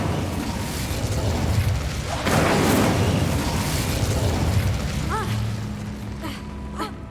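An Incendio fire spell cast in Hogwarts Legacy, a whooshing, crackling fiery burst that swells in the middle and then fades under surrounding game sounds.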